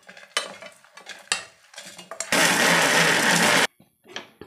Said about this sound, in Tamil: இப்போ நம்ம மிக்சி ஜாரில் போட்டு அரிசின்னு விடலாம்.